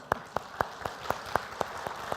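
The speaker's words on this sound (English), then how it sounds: "You can clap for my wife." An audience gives a short round of clapping, about nine evenly spaced sharp claps in steady rhythm, fairly quiet and close, with no talking over them.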